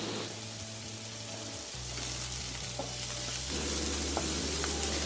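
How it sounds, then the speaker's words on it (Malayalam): Shallots with salt fry in oil for a Kerala chicken pepper roast, a steady moderate sizzle under occasional soft stirring taps, with a low hum in the background and no voices. "ഒന്ന് നന്നായിട്ട് ഇളക്കി കൊടുത്തിട്ട് ഒരു ലൈറ്റ് ഗോൾഡൻ ബ്രൗൺ ആകണ വരെ ഇതൊന്ന് മൂക്കണം."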